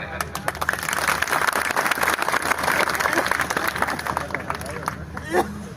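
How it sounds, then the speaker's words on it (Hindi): A crowd at a madrasa graduation gathering claps steadily to welcome the madrasa's secretary. The clapping is dense and continuous, with murmuring voices mixed in, and it thins out briefly near the end. "हम चाहेंगे कि आप लोग सब ताली बजा के उनका खैर मकदम करें।"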